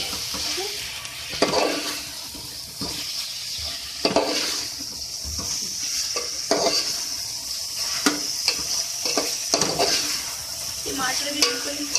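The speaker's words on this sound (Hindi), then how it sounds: "मैं अच्छे से इसको भून रही हूँ और ये अच्छे से भून गया" Potato and cabbage sabzi being stir-fried in a pan, with a steady sizzle under irregular scraping strokes of a spoon against the metal, fairly close and continuous.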